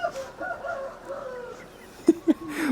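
Chickens clucking and murmuring nearby, a few sharper squawks near the end, with faint rustling in the background.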